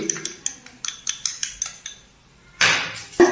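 A utensil stirs clams roasting in a pan with ginger and garlic, giving a quick series of clinking scrapes, then a louder burst of sizzling and clatter near the end.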